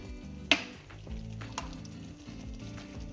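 Fresh curry leaves dropping into hot ghee with mushrooms in a pan, a sharp crackling burst followed by a steady, soft sizzle that continues on its own.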